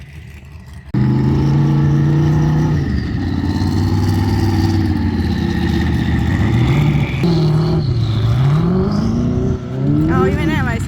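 Loud engine of a red off-road car ripping across the sand at the Glamis Imperial Sand Dunes in California, the motor revving and surging continuously with shifting pitch, close and steady, while people talk over it.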